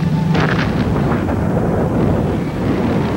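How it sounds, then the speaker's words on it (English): Underground fuel tanks explode in a city fire, throwing up a huge fireball, heard as a loud, sustained rumbling roar with crackling bursts at the start, dense and continuous throughout. "Another devastating explosion rocks the city,"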